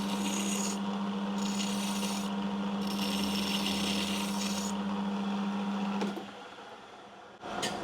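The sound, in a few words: lathe file finishing an aluminium part on a metal lathe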